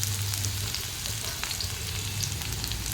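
Onion frying in hot oil in a pan with bay leaf and green chillies for rajma masala. A loud, dense, continuous sizzle is heard up close with no pauses and no talking.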